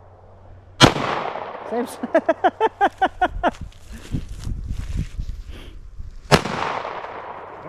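A PSA 5.7 Rock pistol fires at an outdoor target. Two sharp, loud, close shots ring out several seconds apart, with voices and a burst of laughter in between.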